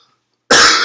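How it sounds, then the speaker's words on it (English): A single close, loud cough bursts out after half a second of silence and fills the rest of the moment. "Did not cough directly into the microphone"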